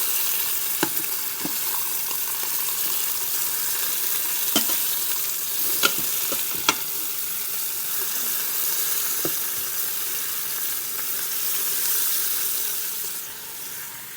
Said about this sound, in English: So eventually all 6 sides of each rib will be seared